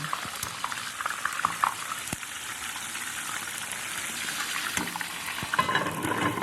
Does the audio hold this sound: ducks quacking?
no